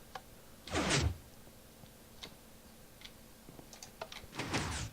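Minecraft 3x3 redstone door opening: two loud whooshing sliding bursts of pistons, separated by a few faint ticks and clicks, quiet in between, no voices.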